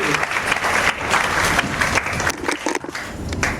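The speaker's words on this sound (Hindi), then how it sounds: "बजाओ तालियां एक बार" An audience at a motivational workplace seminar in a hall breaks into brief, energetic applause, a loud burst of clapping that carries through the whole moment with a few voices underneath.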